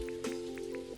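Rainfall in the video game Dinkum, gentle scattered raindrop ticks over a sustained musical drone, with a soft thump at the close.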